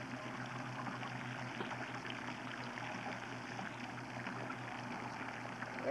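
Water pours and splashes out of an oil-water separator in a steady, continuous stream, a broad rushing hiss with a low hum beneath, with no voices.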